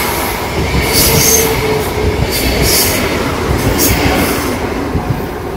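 A Lastochka electric train rolls past steadily near Lazarevskoye, Sochi, with a loud, continuous rumble of wheels on rails and occasional high metallic squeals, no voices.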